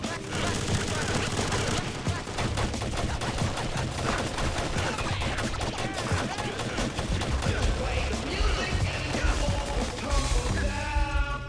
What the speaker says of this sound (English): I'm literally shooting at nothing. I'm being shot at by imagination.